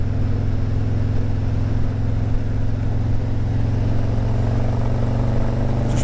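A car engine runs hard under full throttle after a cam change, a loud steady low drone with a strong rumbling tone that holds throughout, with no talking.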